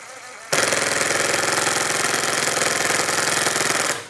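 A Ridgid brushless subcompact impact driver on speed 1 sinks a standard 1 5/8-inch drywall screw, starting abruptly with a loud, close, fast hammering rattle that holds steady for about three and a half seconds before cutting off.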